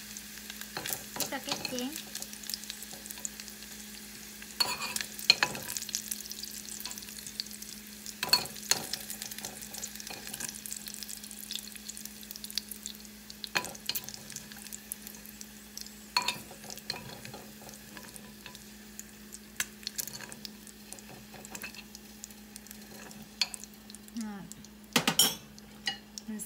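Pork sizzles in a hot pan while a metal utensil scrapes and clinks against it during stirring, with irregular clatters over a steady frying hiss and someone speaking briefly.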